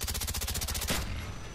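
Automatic gunfire in the Call of Duty video game: a loud, rapid, evenly spaced burst of shots that stops abruptly, leaving a short fading tail.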